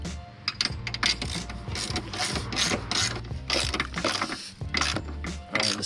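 A ratchet tightens the bolts of a chassis strut brace on a Lexus RC F, making rapid close clicking bursts in repeated strokes with brief pauses between them.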